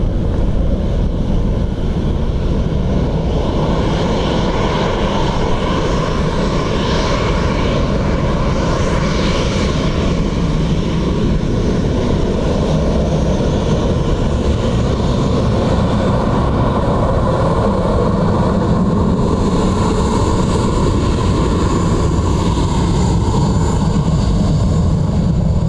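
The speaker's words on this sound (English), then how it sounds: "wind 330 degrees 15, runway 28 left, clear to land" An aircraft lands on runway 28 left at Dublin Airport in a gusty crosswind, its engine roar loud and steady throughout, mixed with heavy wind buffeting on the microphone.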